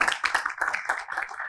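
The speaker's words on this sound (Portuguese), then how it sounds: "Peço uma salva de palmas para ela" A seminar audience on the economics of the arts applauds a speaker with dense, close clapping from many hands. It lasts under two seconds.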